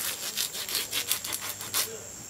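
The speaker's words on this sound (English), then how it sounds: "I turn the fish over, I come in, cut behind the pectoral fin," A knife slicing through a yellowfin tuna behind the pectoral fin, a quiet rhythmic series of about eight sawing strokes with no talking.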